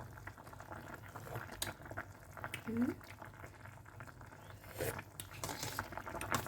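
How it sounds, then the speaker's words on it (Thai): Thai grilled-fish tom khong soup boiling in a pot, a steady low bubbling simmer with occasional soft pops, heard close and moderately quiet with faint background noise throughout. "เดือดแล้วจ้า"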